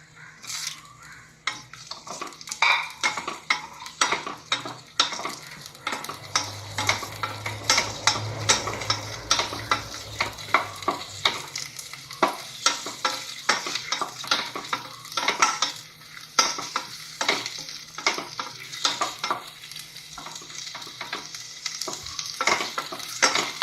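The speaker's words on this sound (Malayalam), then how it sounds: "രണ്ട് ടേബിൾ സ്പൂൺ വെളിച്ചെണ്ണ ഒഴിച്ചു സവാള ആദ്യം സവാള വഴറ്റിയെടുക്കണം" Onions sautéing in two tablespoons of coconut oil for Kerala-style prawn roast, a steady sizzle with frequent scraping stirs and clinks of a spoon against the pan, close and continuous throughout.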